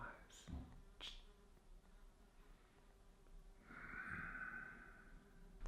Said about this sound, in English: It's like the loudest fly I've ever heard.